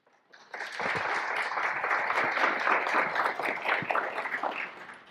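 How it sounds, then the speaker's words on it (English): Audience applause rises quickly and holds steady as a dense, even patter of many hands clapping in a hall at a talk or presentation, fairly loud and close. "I always love it when you get the applause in the beginning"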